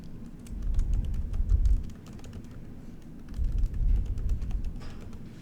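Keys clack on a computer keyboard as a workbook name is typed in Excel, quick light taps in short bursts over a low background hum.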